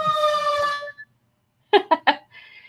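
A short rising-and-falling siren tone plays, then breaks off, followed by three quick bursts of a voice and a faint high whine.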